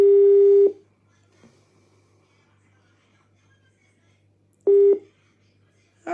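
Outgoing phone call tone on a WhatsApp call, two steady beeps separated by about four seconds of near silence, clear and close.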